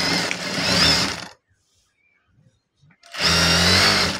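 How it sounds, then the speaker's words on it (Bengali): Sewing machine stitching a salwar seam, a loud rapid whirring run of about a second, a pause of near silence, then another burst of stitching. "আরেকটা সেলাই দিব"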